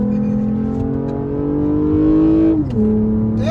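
A Toyota Camry fitted with a cold air intake revs hard in a steady, loud rising engine drone that holds, dips briefly near the end, then climbs again, with no talking.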